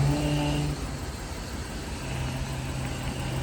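A Bentley SIII rolls around a yard, its engine a steady low rumble with a slight change in pitch partway through, continuous and moderately close.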